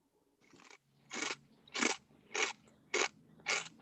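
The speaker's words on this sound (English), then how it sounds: "That chewing is very loud." Loud, close crunchy chewing picked up right at a phone microphone, five or six distinct bites in a steady rhythm, each a sharp crackling burst with no talking over it.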